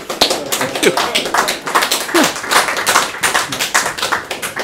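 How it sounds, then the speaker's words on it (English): Audience applause breaks out at a Christmas social gathering, loud and close, with distinct sharp claps in an uneven rhythm, a few voices and whoops mixed in among the hands. "this is the first time I've had a round of applause for that"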